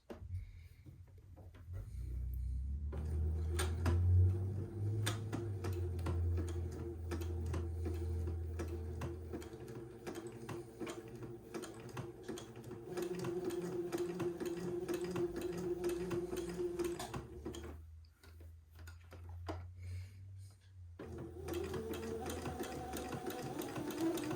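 A sewing machine zigzag-stitches along the sleeve seam of a baby boy's heirloom bubble romper in long, steady runs, with a low motor hum and quick ticking of the needle. A brief pause breaks the stitching partway through.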